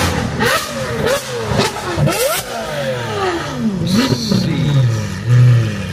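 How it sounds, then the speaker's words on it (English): A car with a loud aftermarket exhaust revs hard through repeated throttle blips and rising pulls as it drives past, close and loud, with a deep burbling tail at the end. "That car got an F1 sound."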